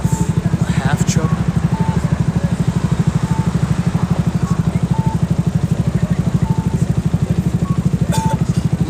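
A motorcycle engine idles on half choke with a fast, even pulsing chug, loud and close, while a voice talks over it with a few short beeps.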